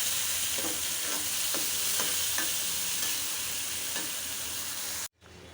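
Fish bhuna with chili powder frying in a pan, a loud continuous sizzle with soft scraping stirs throughout, close up, cutting off abruptly near the end.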